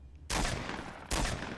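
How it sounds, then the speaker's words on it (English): Two bursts of loud, close gunfire in the Fortnite video game, each one a sharp crack that decays into a long noisy tail. "If you guys could hear a lot of gunshots"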